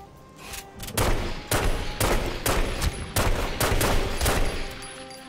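Gunfire in The Godfather video game, a rapid volley of loud, sharp shots at a roughly even rhythm that fires almost continuously for several seconds.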